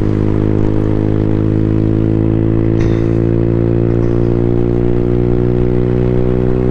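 A 2024 Freedom Fighter 200 EFI motorcycle engine drones loud and steady while ridden with a heavy rider, its engine tone easing as it slows and drops into fifth gear, with a brief click partway through.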